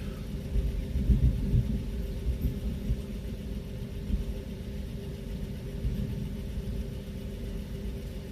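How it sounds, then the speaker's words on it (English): Low, distant thunder rolls on, a soft sustained rumble with a few swelling surges and no talk. "Here comes some thunder."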